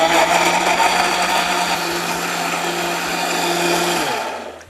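A blender whirs loudly and steadily with a high motor whine, then winds down and stops near the end.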